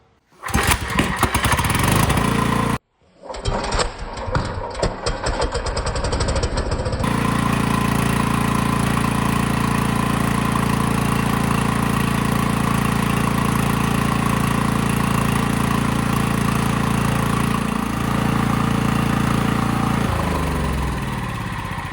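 A 5000 watt portable generator engine cuts out briefly, restarts and settles into a steady loud mid-pitched running drone that holds for many seconds before dropping slightly near the end.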